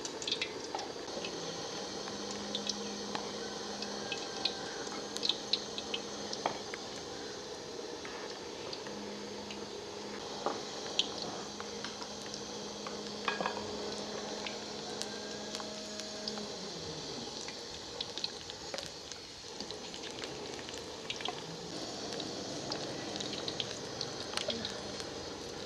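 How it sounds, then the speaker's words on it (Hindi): Besan-coated egg pakoras frying in hot oil, a steady close sizzle and bubbling that runs throughout with occasional drips and spatters, alongside a faint background hum. "ऑयल में डालते जाएंगे।"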